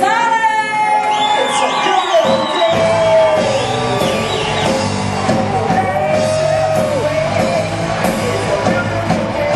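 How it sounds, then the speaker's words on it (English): Wedding reception guests cheer, whoop and yell in a loud, continuous crowd roar that holds steady throughout. "I want to hear a thunderous round of applause for our guest of honor this evening"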